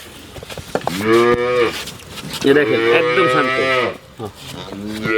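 A dairy cow lets out two long, loud moos close by, the second stretched and wavering, followed by a short lower grunt.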